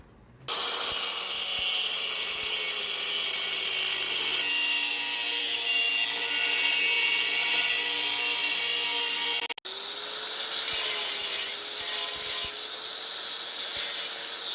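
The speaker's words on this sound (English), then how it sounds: "I'm going to be using a 4-inch cut-off wheel, my little grinder" A small angle grinder with a 4-inch cut-off wheel cuts through metal on a steel step bumper hitch receiver, a steady high whine and grinding hiss that briefly stops, then restarts and continues.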